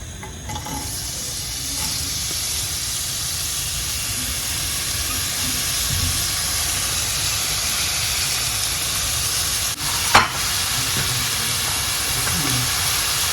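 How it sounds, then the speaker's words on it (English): Shallots sizzle in a little oil in a frying pan, a steady close hiss that holds evenly throughout, broken by a brief sharp clatter near the end. "just a little oil to the pan. We'll go ahead and add our shallots."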